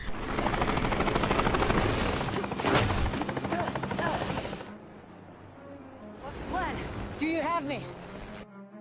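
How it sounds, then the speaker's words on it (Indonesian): In the 2022 action film Echo 3, a helicopter comes under enemy attack: a loud, churning rotor roar mixes with bursts of gunfire and dramatic sound, then drops to quieter moments with voices and tonal effects. "pasukan musuh menyerang helikopter mereka"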